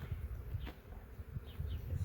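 Honeybees buzz faintly at an open hive during a late-April inspection and split, with a few brief passes as single bees fly close, over a low steady hum.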